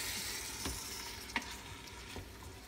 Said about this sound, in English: Once this is all stirred up, we're going to close it up.